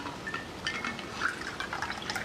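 A cocktail poured from a pan into a martini glass, a soft, close trickle of liquid with small splashes running steadily for a couple of seconds.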